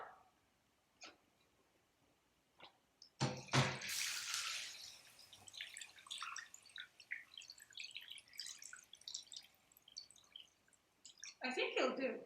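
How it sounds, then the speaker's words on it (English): Water pours into a cooking pot over lamb shank for a Persian khoresh-e gourmeh sabzi stew, with a loud splashing burst early on, then intermittent trickling and dripping, and a second pour near the end. "So let's start adding water."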